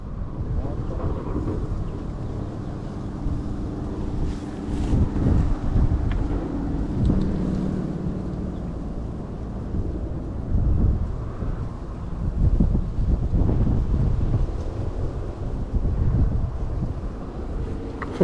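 Wind blows across a neighborhood pond and buffets the microphone in a steady low rumble, with stronger gusts rising and falling throughout. Faint voices are buried in the noise.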